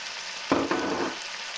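Onion and red and yellow peppers drop onto browned chicken in a hot pan, setting off a sudden loud sizzle that stays steady for about a second before easing.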